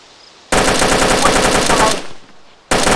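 Rapid automatic gunfire from a first-person video game, two loud sustained bursts of machine-gun fire with a short pause between them, close and dominant.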